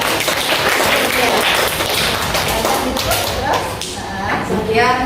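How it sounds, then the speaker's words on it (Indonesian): A classroom audience claps after a group presentation, the applause dense and steady for about five seconds, mixed with taps and thuds and voices talking underneath. "Beri tepuk tangan buat."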